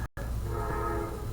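Loud, sustained train horn tones over the low rumble of passing rail cars, heard close and continuous after a brief gap at the start, with no speech.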